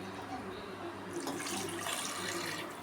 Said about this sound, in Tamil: இதே கிண்ணத்தில் 2 கிண்ணம் தண்ணி ஊற்றிக்கிறேன்.